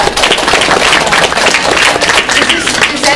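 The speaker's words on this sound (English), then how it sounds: "I feel like there should be applause." Applause from an audience at a cosplay psychology panel at New York Comic Con 2012, a dense, steady wash of many hands clapping at close range that fills the whole stretch without pause.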